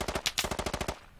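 Rapid machine gun fire in the military shooter game Squad, about a dozen sharp, evenly spaced shots in one sustained burst, loud and close, then cutting off into a brief fading tail.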